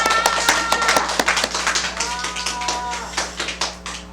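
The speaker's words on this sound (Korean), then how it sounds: "박수 다시 한번 쳐볼까요?" Children clapping in a church Sunday school room, a run of sharp, fairly close claps that are irregular and scattered rather than in unison, over a steady low hum.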